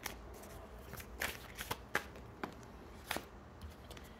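Tarot cards being shuffled close up, giving a series of crisp, irregular riffling snaps and flutters against a quiet background, with no talking.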